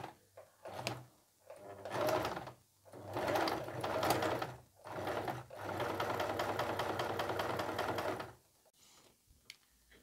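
A sewing machine stitches a redesigned jumpsuit into a dress in several close bursts of rapid rattling. The bursts are separated by brief pauses, with one long continuous run before it stops.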